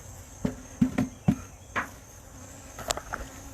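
Honey bees buzz inside an opened hive box with several frames of bees, a low steady drone broken by a few sharp close knocks and bumps.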